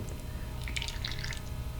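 Baby oil drips and glugs as it is poured into a bottle for a galaxy density craft jar, a short run of soft close liquid drops and trickles.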